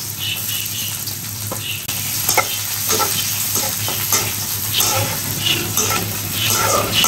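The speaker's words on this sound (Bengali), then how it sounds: "এখন ব্রাউন করে ভেজে নিব।" Chopped garlic and onion fry in hot oil in a pan, a steady bright sizzle with a spoon scraping and stirring in repeated strokes, close and continuous with no talking.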